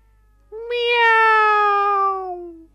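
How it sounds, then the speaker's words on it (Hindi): A single cat's meow, a long drawn-out, slightly falling cry lasting about two seconds, clear and close with no other sounds around it. "ये बिल्ली की आवाज है।"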